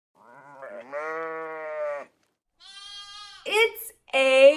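A few separate sheep bleats, each a wavering, nasal cry, close and clear with short silences between them.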